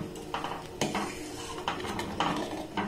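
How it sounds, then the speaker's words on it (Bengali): Stirring saffron into thickened milk in a pot, a utensil scraping and clinking against the metal in several distinct strokes, close and alone. "কেশরটা দিয়ে এটাকে একটু নাড়াচাড়া করে নেব।"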